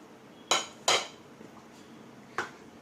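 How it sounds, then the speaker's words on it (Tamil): Grated carrot is added to soaked semolina batter for lentil rava idli, with three sharp metallic clinks of a utensil against a pot or bowl, two close together and one a moment later, in a quiet kitchen. "இதில் நான் கேரட் துருவுனது சேர்த்துக்கிறேன்."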